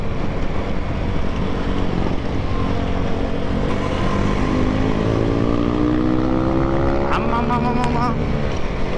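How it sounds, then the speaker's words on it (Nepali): A motorcycle being ridden gives a steady engine drone, and its exhaust crackles with a short burst of sharp pops near the end. A rider talks over the engine sound. "आम्मामा कस्तो पड्किने छ त बाइक त"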